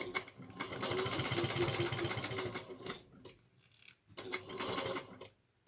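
A sewing machine stitching a shoulder bag runs in a fast, even rattling whir, stops briefly, then starts again for a second burst before cutting off, close and alone without speech.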